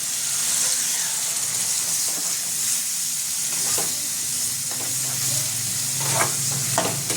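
Ground spice masala with beaten yogurt frying and being stirred in oil for a Bengali stuffed chhana dalna, giving a steady close sizzling hiss with a few scraping strokes of the spoon near the end and no talking.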